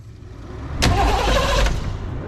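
Car engine cranking with one ignition coil unplugged, a short burst of rapid starter churning that starts abruptly after a quiet moment and runs steadily, close and fairly loud, with no talk.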